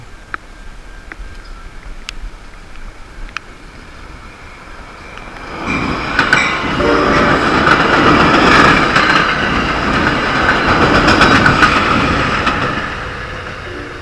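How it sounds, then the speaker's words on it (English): A train approaches a railroad crossing and rolls past. After a quiet start, its heavy rumble and wheel clatter swell loud and close for several seconds, then begin to fade, with no voices. "Oh, there's a train coming."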